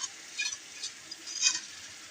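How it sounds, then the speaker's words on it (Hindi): Sugar syrup goes into semolina halwa in a pan with the flame off, then gets stirred. Soft, quiet scraping and wet stirring come in short, uneven bursts. "अभी यहाँ पे मैं ये सारा शीरा इसके अंदर शामिल करूँगी।"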